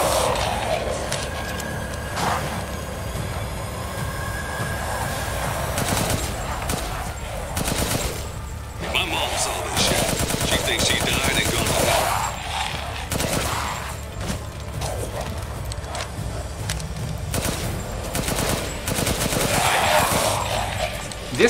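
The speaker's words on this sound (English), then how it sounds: "Gun has like a weird delay after firing a shot." Gunfire in the survival horror game Resident Evil Village, shots cracking out repeatedly over a dense, loud mix of game music and ambience, with a short lag between each firing.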